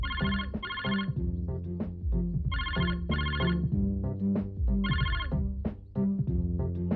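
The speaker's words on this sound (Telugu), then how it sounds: "చూడు నీకేనేమో ఫోన్" A telephone bell rings in repeated bursts, each a quick pair of rings with pauses between, alone and fairly loud over a steady low background tone.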